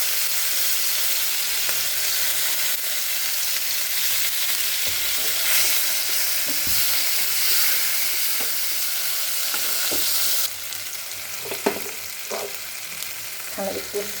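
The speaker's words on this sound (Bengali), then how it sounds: "এখানে একটু সামান্য লবণ আর অল্প হলুদ দিয়ে এটাকে আমি কিন্তু একটু ভালো করে ভেজে নেব" Spice paste frying in oil with black cumin in a wok, a bright steady sizzle with occasional stirring scrapes and clicks, the hiss dropping in intensity toward the end.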